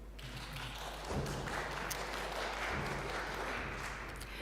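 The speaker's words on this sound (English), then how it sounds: "A round of applause." Church congregational meeting audience applauding after reaching consensus, a sustained round of clapping from a room of people, moderately distant and even, with a low hum underneath.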